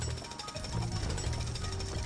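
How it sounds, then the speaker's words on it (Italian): A small drill in the video game LEGO City Undercover makes a steady, loud rattling buzz with no pauses, sitting in dense background game sound. "Ci becchiamo qua il trapanino."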